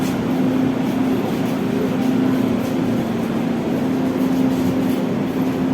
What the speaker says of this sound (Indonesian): ini merupakan second hand atau KRL bekas ex Jepang teman-teman, buatan Tokyo Corp